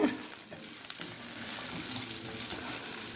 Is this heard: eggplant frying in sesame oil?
yes